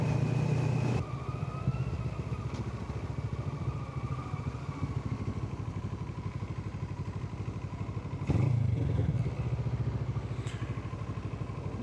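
A vehicle cruises through empty streets at night on the way to Tagaytay, its steady engine drone continuous and close throughout, with two brief louder bursts near the start and later on.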